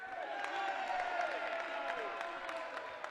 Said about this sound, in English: a sarcastic cheer from the English trainers